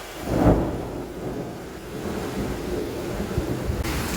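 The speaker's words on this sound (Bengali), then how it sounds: "এখন তো বৃষ্টিটা আরো জোরে শুরু হয়ে গেল" Heavy morning rain hisses steadily while a low roll of thunder rumbles early on, then fades into a continuous wash of downpour at moderate volume.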